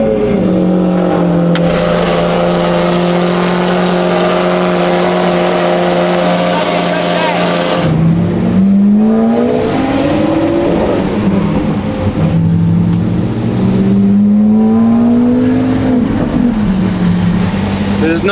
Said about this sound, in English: All right, everybody starting out the cars.